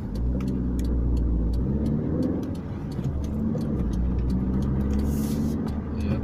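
A car drives steadily along a town road, its engine and tire rumble loud and continuous from inside the cabin, with faint clicking ticks scattered over the drone.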